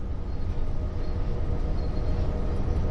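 An EMD F7 diesel-electric locomotive on the Clinchfield Railroad in the game Train Sim World 2 gives a steady, heavy low engine rumble that holds constant throughout, with no voices.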